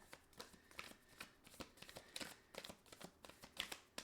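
Tarot cards are shuffled close by in quiet, irregular bursts of soft papery riffling and flicking, several rustling strokes in a row with brief pauses and no voice over them.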